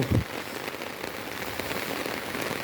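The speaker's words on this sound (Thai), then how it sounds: "ที่จังหวัดนาราธิวาสฝนตกหนักครับผม" Heavy rain pours steadily during a flood in Narathiwat province, Thailand, a dense continuous hiss of drops striking surfaces close by, with a brief low thump right at the start and no voices.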